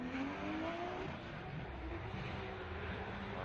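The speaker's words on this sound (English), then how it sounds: "here comes Mike Essa, Essa Autosports Achilles Radial BMW" Essa Autosports Achilles Radial BMW drift car at Formula Drift qualifying, a steady distant engine roar with rising pitch sweeps, heard from afar over broad crowd and track noise with no speech.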